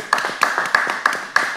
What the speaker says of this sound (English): why the claps get so soft when it's about me?